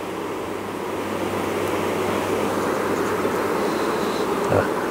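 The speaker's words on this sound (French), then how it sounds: "ça ventile fort. Alors, je sais pas si vous entendez, c'est caractéristique d'une ruche" Honeybees in a queenless hive fanning hard, a dense, steady buzzing hum filling the whole clip at close range, with no talk over it.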